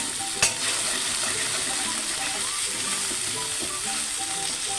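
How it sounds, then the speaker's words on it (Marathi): Kashmiri chili powder is stirred into hot oil in a pan for a veg Kolhapuri dish, a loud steady sizzle with a sharp clink of the spoon near the start and scraping stir sounds throughout. "मी आता ह्याच्यामध्ये काश्मीरी मिरची पावडर घालते एक चमचा व्यवस्थित मिक्स करून घ्यायचं आहे"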